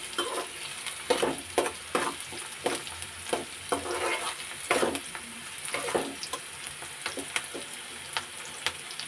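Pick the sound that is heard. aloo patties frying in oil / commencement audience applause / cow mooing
aloo patties frying in oil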